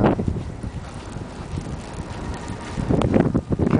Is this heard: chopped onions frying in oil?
no